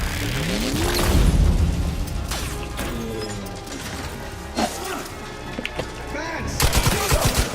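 Turret gunfire in The Outer Worlds, bursts of sharp shots and mechanical clatter layered over game effects, loud and busy with a few louder cracks near the end, a voice speaking briefly amid it.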